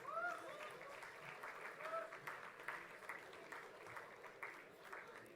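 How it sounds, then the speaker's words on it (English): An audience of parents applauds at a business school convocation ceremony, steady hall-filling clapping that holds throughout, fairly distant and soft, with a few whoops rising over it. "Parents, keep applauding, please."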